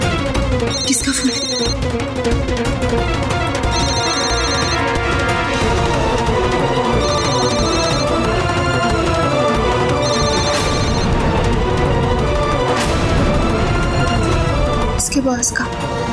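A phone ringtone plays continuously in a TV drama scene, a repeating electronic melody with bright chiming tones, loud and steady, with voices and background music mixed in.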